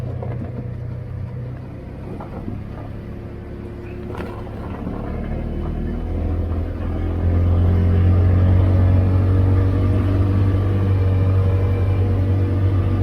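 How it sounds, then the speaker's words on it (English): A truck rolls off an icy highway ramp during a Mississippi ice storm. Its engine rumbles low and steady at a distance, then grows louder and heavier midway through, with no talking over it. "There's a truck coming off the ramp that way."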